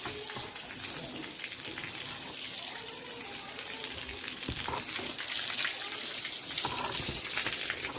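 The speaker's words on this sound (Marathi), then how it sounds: "दारामध्ये चौकट असं पाणी मारून घेतलं, सगळं अंगण वगैरे पण स्वच्छ धुवून घेतलं मी इथं." Water splashes and gushes steadily across a home courtyard and doorway as they are washed down, a continuous close hiss of spray growing slightly louder, with no talk.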